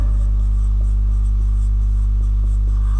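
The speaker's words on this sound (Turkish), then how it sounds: "3 numara olarak bunu kırmızıyla yazıyorum" A red pen or marker writes on a board during a geometry lesson, giving faint, scratchy strokes in short bursts over a steady low electrical hum, with no talking.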